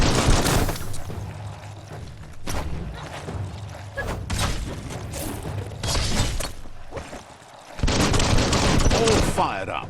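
Gunfire in the Biomutant video game on PS4: loud, dense bursts of rapid shots and crashing impacts in repeated volleys, with short lulls between them and game voices mixed in.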